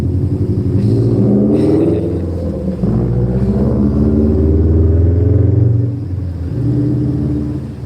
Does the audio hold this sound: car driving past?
yes